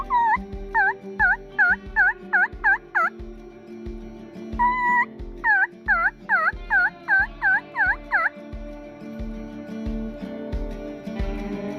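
A wild turkey gobbles during a spring bow hunt near decoys, with repeated rapid bursts of rattling calls, loud and nearby, while a low rhythmic thumping runs underneath throughout.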